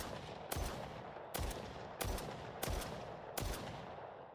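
Five sharp, evenly spaced gunshots ring out while zombies are shot in an Unreal Engine 5 Call of Duty–style zombies game, each crack followed by a short decaying tail over a quiet background.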